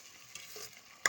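Masala for chole is stirred and fried in a pan, giving a soft scraping stir and faint sizzle, with a sharper spoon clatter near the end and no talking.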